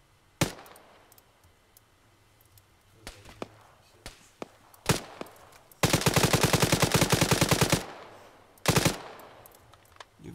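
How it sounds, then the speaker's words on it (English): Bursts of machine gun fire in a video game, with scattered single shots early on, then a loud sustained rapid burst of about two seconds and a shorter burst after it. "You've got a machine gun, use it."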